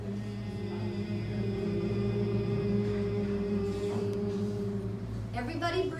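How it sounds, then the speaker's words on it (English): A steady, low nasal hum held through a long exhale in the bee's breath breathing exercise, sustained and even for several seconds, close and fairly quiet. "on the exhale, you kind of send out this humming sound like this."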